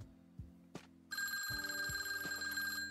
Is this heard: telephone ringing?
yes